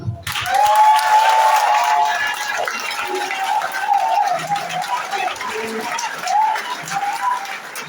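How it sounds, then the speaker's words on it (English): An audience at a youth inspirational talk bursts into clapping, loud and sustained, with a voice ringing over the applause in an echoing hall. "Clap, clap."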